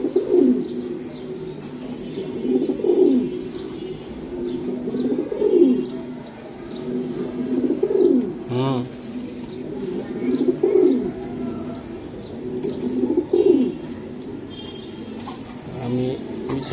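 Racing pigeons cooing close by, repeated soft throaty coos arriving every couple of seconds in an even rhythm, with faint background chatter and rustling.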